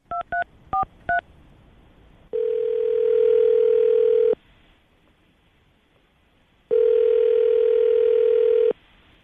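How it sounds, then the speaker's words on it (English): Telephone touch-tone dialing: a quick run of DTMF beeps followed by two long, steady ringback tones with a pause between them, loud and close, heard on its own with no voices. "we're going to call him right now, see if we can get him on the phone."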